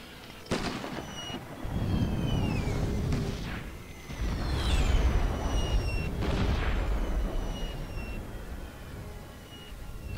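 Artillery fires in the video game The Great War: Total War during a Great Britain campaign battle, with several deep booming blasts and rolling rumbles spaced a second or two apart at a moderate distance.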